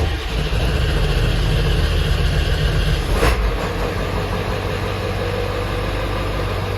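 A 7.3 Powerstroke diesel engine, just repaired for oil leaks, runs steadily at a loud close idle, with a brief sharp click near the middle.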